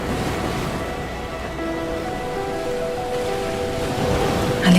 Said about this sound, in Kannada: ಅಲೆಗಳ ಸದ್ದು